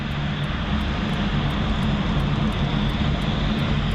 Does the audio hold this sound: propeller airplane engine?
yes